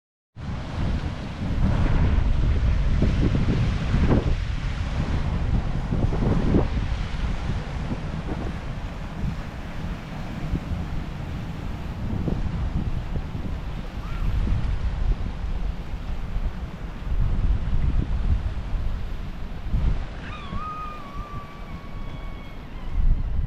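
Small ocean waves wash through rock pools at The Tanks at Foster, NSW, a steady broadband roar of water and surf mixed with wind buffeting the microphone, swelling and easing over the whole stretch, with a faint bird call near the end.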